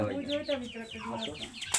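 Hens cluck steadily at a bird park in Batikamari, Muksudpur, one of them laying an egg, their close, overlapping calls running continuously with a brief sharp sound at the end.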